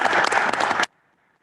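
Brief burst of applause at a county board of supervisors meeting welcoming a new board member, dense clapping for under a second before cutting to near silence.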